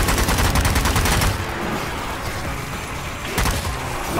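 Gunfire in a video game, a loud rapid burst of automatic shots, then a quieter lull, then another short burst near the end.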